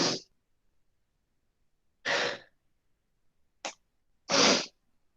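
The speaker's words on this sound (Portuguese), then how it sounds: "eu acho que vai sair mais um espirro" A person sneezes alone in a quiet room, four separate bursts with pauses between them, the third short and sharp.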